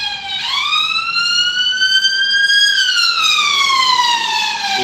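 A hospital ambulance siren wails loud and close, one long tone that rises and then slowly falls, steady and alone over faint background noise.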